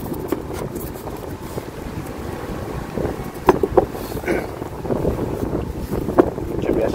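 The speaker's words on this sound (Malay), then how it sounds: "Angin kuat pula geng." Strong wind at an island bridge fishing spot roars into the microphone as a steady low buffeting, with gusts and a few faint knocks and thumps rising over it.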